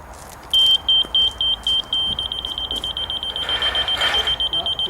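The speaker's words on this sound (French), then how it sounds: "je vais placer juste au-dessus de mon traçage le bip" A laser level receiver set above a marked line gives a series of sharp, high electronic beeps, slow and spaced at first, then quickening into a rapid steady pulse, close and clear over faint background noise.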